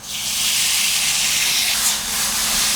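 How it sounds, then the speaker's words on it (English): A loud, steady sizzling hiss rises as sauce and noodles hit smoking hot oil in a wok while chili oil noodles are cooked, sustained and close without any talk. "Once your oil starts to smoke, then we add in our sauce and our noodles."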